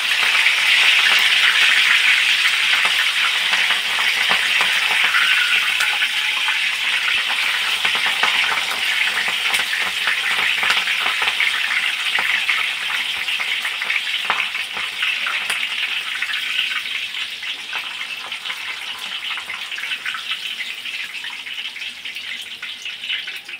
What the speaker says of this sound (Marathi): मिरची सुद्धा तळून झाली आहे।